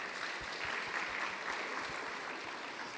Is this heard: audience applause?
yes